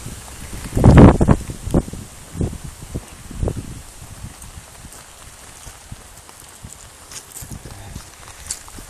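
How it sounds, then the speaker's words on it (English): Light rain and gusty wind in an Alberta thunderstorm, with a steady soft hiss broken by a few strong buffeting thumps early on that fade into quieter patter. No one speaks. "We're barely getting rained on here."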